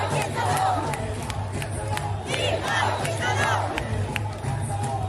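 A large protest crowd in Montreal roars continuously, a dense wash of many voices with rising shouted chants and cheers that swell and fade over a steady low hum.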